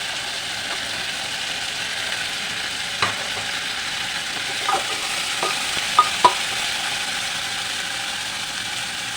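Chopped onions frying with pieces of chicken in a pan for a stew, a steady hiss with a few scattered clicks and scrapes from stirring.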